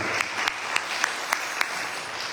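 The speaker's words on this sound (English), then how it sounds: "please give a big round of applause for Devi" Brief audience applause at a Navaratri temple music event in Pickering, a short burst of scattered clapping with a few distinct sharp claps standing out over a steady patter.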